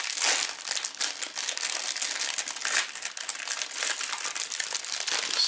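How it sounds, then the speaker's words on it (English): Crinkling plastic wrapper around a sausage and cheese biscuit being pulled open at one end, with close, continuous rustling and crackling that runs throughout and has no talking over it. "since we get to open up one end of the wrapper"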